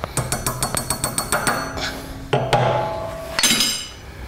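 A metal key is tapped into the keyway of a milling machine pulley in a quick run of about a dozen light, ringing taps, followed by a few louder clinks and a resonant metallic ring, close and alone.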